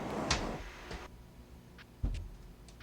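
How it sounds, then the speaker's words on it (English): Aircraft cabin door pulled shut before engine start, a muffled thump followed by a sharper latch knock about two seconds later, close by and with no speech. "Go ahead and reach over and close your door."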